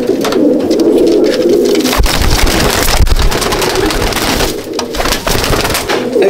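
Pigeons coo in a loft, soft throaty calls that repeat through the clip, with wind buffeting the microphone and brief bursts of fluttering wings.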